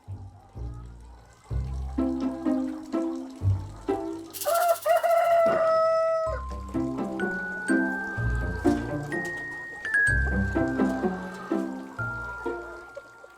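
Chickens cluck in a farm yard and a rooster crows once in the middle, all under a rhythmic musical backing that runs throughout.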